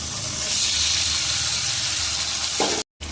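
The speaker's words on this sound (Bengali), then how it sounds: "দিয়ে এটাকে ভালো করে ভেজে নেব" Continuous close sizzling and hissing of jackfruit and soy chunk curry frying in a pan, steady throughout, ending with a brief clatter and a moment of silence.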